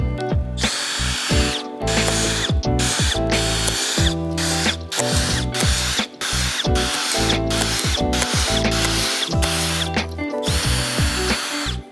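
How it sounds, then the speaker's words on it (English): A power drill bores 1/4 inch holes while flush-mount lights are being installed, loud whining bursts of motor noise starting and stopping repeatedly, each run a second or two long with short pauses between, and no talking. "So go ahead and just grab your safety glasses, your drill, and drill bit, and get to drilling."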